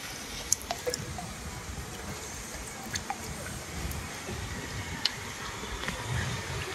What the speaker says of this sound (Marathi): टेरेचं पाणी पडणार खाली जुगाड करून